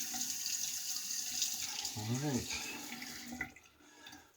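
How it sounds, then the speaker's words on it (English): Water runs steadily from a tap into a sink for rinsing during a shave, a soft continuous splash with a brief change in flow, heard nearby under a short spoken word. "Let me get a quick rinse."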